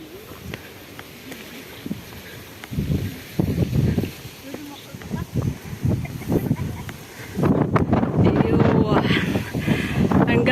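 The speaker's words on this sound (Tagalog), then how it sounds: "mahangin" Wind buffets a microphone outdoors on a breezy coastal road near Cape D'Aguilar. Uneven bursts of low rumbling gusts come and go, under and between stretches of people talking.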